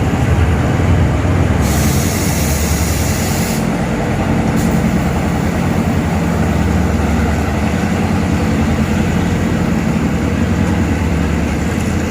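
Rapid train no. 170 arriving from Ratchaburi station, its heavy diesel engine droning loud and steady with a continuous rumble and brief hissing bursts, close by throughout.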